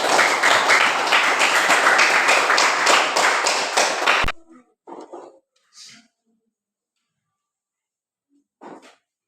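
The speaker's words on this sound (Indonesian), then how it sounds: "mari kita tepuk tangan untuk hasil diskusi kalian." Students in a classroom clap together after a group discussion, a brisk burst of hand claps lasting about four seconds that stops abruptly, followed by a few faint scattered sounds.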